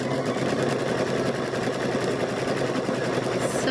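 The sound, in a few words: sewing machine stitching quilt squares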